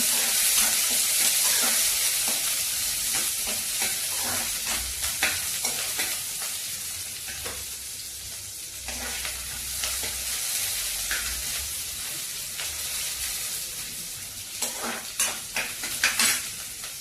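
Sliced onions for a barbati curry fry in hot oil in a pan while being stirred. A steady close sizzle and hiss runs throughout, punctuated by scraping utensil clicks that grow busier toward the end, with no voices.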